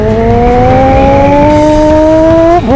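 A motorbike sound module in two-stroke mode produces a loud, buzzing engine tone that rises steadily in pitch like a revving bike, then dips abruptly at the end, with no talking.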